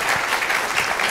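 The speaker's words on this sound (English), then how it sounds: "Let's give this wonderful panel a round of applause." An audience applauds a panel at an art conversation event, giving a brief, dense burst of steady clapping from a crowd.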